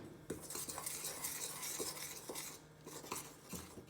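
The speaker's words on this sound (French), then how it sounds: "je mets toute la farine et le sel et je commence à pré-mélanger avec la cuillère." A spoon stirs flour and salt together in a bowl, giving soft scraping and occasional light taps against the side, quiet and close with no talking.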